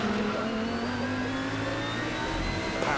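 An Audi GT race car accelerating hard at Oschersleben during a GT Masters race, a loud sustained engine roar rising in pitch over three seconds, steady and close.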